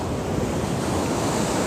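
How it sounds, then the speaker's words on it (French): Ocean waves wash continuously onto an eroded beach, a steady close roar of surf mixed with wind buffeting the microphone, with no voices. "les vagues"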